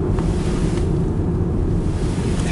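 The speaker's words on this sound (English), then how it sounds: "heavy wind action" Heavy wind roars steadily through a December 2010 blizzard, a constant loud low rumble buffeting the microphone with no break across the whole stretch.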